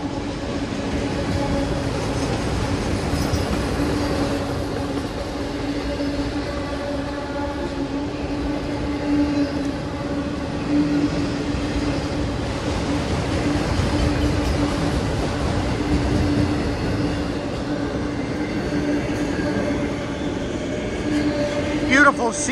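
A Norfolk Southern freight train rolls steadily past, a loud continuous rumble of railcars with faint wheel clatter, sustained for the whole stretch with no break.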